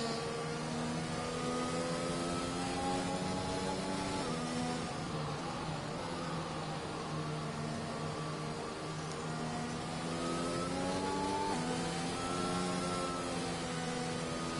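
Race car engine in Live for Speed running a formation lap at Japan Grand Prix, a steady droning whine with harmonic layers rising and falling as revs shift, continuous and fairly loud with no talking.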